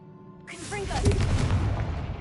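A Confringo blasting spell explodes in a Harry Potter video game, a sudden loud burst followed by a rolling rumble that tails off, with short whistling spell effects near the start.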